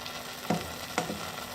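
Soft, steady bubbling and low sizzling from chili sauce simmering in a pot, with two brief clinks or stirring scrapes standing out, and no voices.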